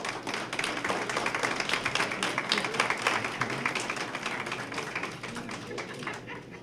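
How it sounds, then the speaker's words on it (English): A crowd gives dense, continuous applause at a community centre ribbon-cutting and reopening ceremony. The clapping is fairly loud and sustained, thinning slightly toward the end, with no voices on top. "please stand for a well-deserved round of applause"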